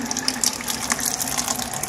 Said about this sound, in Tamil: பம்ப் பண்ணால் தண்ணி வந்துருமா? தண்ணி வருது பாருங்க.